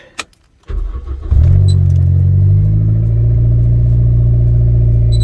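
A Toyota 1ZZ engine, just repaired after a timing chain tensioner job, cranks and catches after a brief click, then settles into a loud, steady idle right up close, with no voices.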